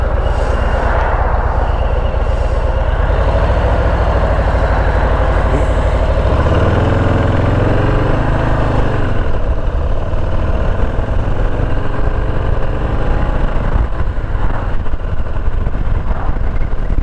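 Harley-Davidson Low Rider ST 2023 motorcycle on a ride back to the dealership, its engine rumble and road noise steady and loud throughout, shifting in tone partway as the bike changes speed.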